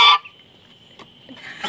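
A tame domestic goose on a farm lets out a single loud, close honk, followed by near silence with only faint background noise.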